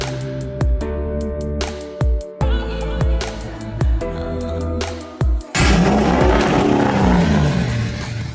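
A pickup truck engine runs loudly and revs up close by as it drives into a garage, with sharp bursts and a steady rumble that swells into a louder roar near the end.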